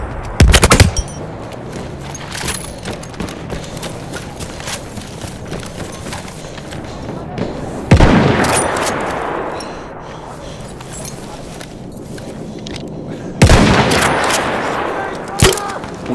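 Machine gun fire in Battlefield 1, short loud bursts of rapid automatic shots at the start and again in the middle and near the end, with battle noise and speech in between.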